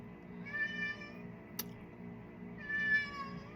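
A cat meows twice, a drawn-out meow near the start and another toward the end, with a brief sharp click between them.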